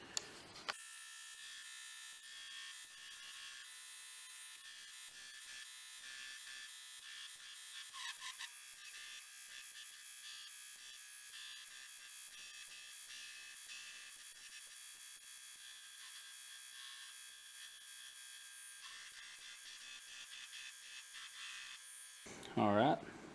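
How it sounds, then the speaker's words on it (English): Grinder working the pommel of a ladder-pattern Damascus dagger, a continuous high whine held steady for over twenty seconds with brief bumps as the steel meets the belt, ending in a short louder burst. "So let's get the grinder started up and let's get to work."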